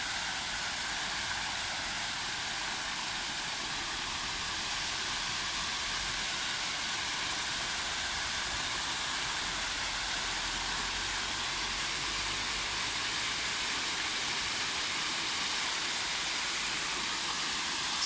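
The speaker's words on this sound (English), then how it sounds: "because of the waterfall being on" Waterfall running at a park with fountains and a koi pond, a steady, dense rushing wash that holds at an even level throughout with no pauses.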